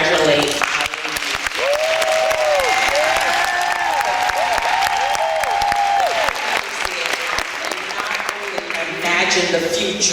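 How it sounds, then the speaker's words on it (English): Sustained audience applause at a student debate event, a steady wash of many hands clapping with some whoops, under a continuous tonal hum and crowd noise. "So please join me again with an astounding applause to congratulate our"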